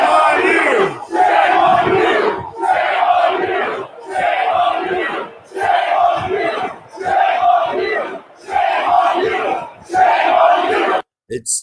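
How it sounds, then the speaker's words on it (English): A protest crowd outdoors in Ottawa chanting a two-word slogan at police, loud rhythmic shouts repeated about eight times in regular bursts with brief gaps between. "The crowd's chanting "Shame on you" for the police doing their job"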